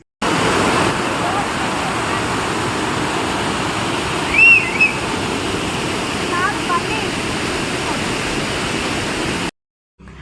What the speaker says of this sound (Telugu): ఆ వాటర్ ఫాల్స్ సౌండ్